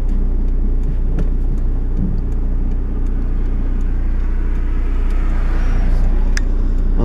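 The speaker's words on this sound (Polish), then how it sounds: "Przepuścimy samochód." A car on a rural road to farm fields drives past with a steady engine rumble that swells toward the end, loud and close, with no voices.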